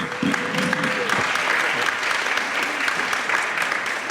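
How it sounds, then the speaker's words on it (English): An audience at an urban economics panel discussion gives sustained applause for the panelists, dense even clapping filling the room, with a brief tone and voice murmur near the start. "I will ask you for a round of applause for our panelists"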